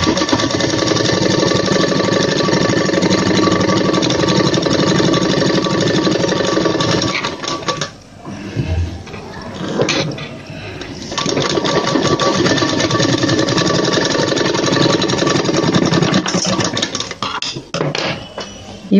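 A sewing machine stitching blouse fabric runs in a loud, steady mechanical whir for several seconds, pauses briefly amid a few handling clicks, then starts again and continues stitching steadily.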